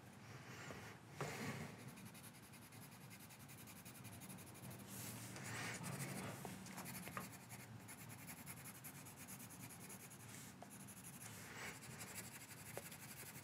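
A 3B graphite pencil shades across paper while a chimpanzee portrait is drawn, giving a steady close scratchy rasp with repeated stroking strokes and brief louder scrapes, alone without talk.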